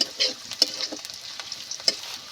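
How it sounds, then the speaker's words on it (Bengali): Onions fry in a pan with a soft, quiet sizzle while a spatula stirs them in short scraping strokes, with no speech. "পেঁয়াজ দিয়ে এইভাবে নেড়ে চেড়ে আমি লাল লাল মতো করে নেব।"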